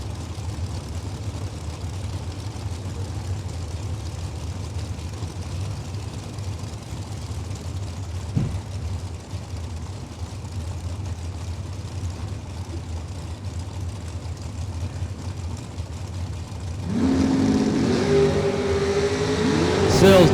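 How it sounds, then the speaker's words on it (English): A shorty dragster at a drag strip, heard as a low steady rumble for most of the clip before a louder, rising engine roar swells in near the end, with an announcer talking over the track noise. "that shorty dragster down 469 in the right lane"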